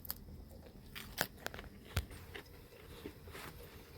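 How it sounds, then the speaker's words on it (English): A homemade salty potato chip is bitten and crunched in a few sharp, close crackling bursts against a quiet background, with no one talking. "That's a crunchy, salty potato chip."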